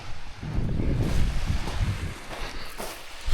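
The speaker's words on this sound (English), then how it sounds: "but the sound of the ocean" Ocean waves on the Jaywick seafront wash in a broad, continuous rush, partly buried under heavy wind buffeting on the microphone.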